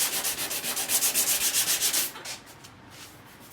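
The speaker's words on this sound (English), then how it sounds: "And then when you sand it," Steady back-and-forth sanding strokes on a 1936 Ford Tudor body panel, loud and close in a quick even rhythm for about two seconds, then fading to lighter, sparser rubbing.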